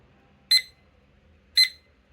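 A study timer's alarm clock rings in two short, bright electronic bursts about a second apart, loud against a quiet background with no talking.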